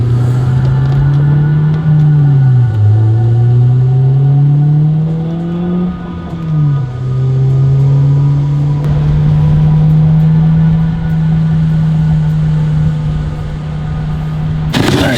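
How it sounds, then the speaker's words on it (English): Honda S2000 engine while driving, a strong low drone whose pitch rises and dips through gear changes and shifts in throttle, loud and close from inside the car, settling into a steady cruise before an abrupt noise at the end. "so I'm gonna take the S2000 right now"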